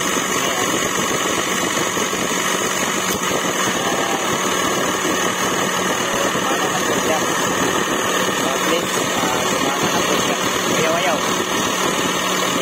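A Chery QQ with a manual transmission idles with its AC compressor engaged, giving a loud, constant mechanical hum and whir close by, with no breaks.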